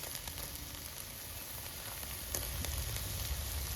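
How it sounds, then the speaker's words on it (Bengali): Ginger and garlic paste sizzles in hot oil with fried onions for an egg curry, giving a soft, continuous crackle that grows a little louder partway through, with no one talking. "এখন দেবো আদা বাটা রসুন বাটা একসাথে"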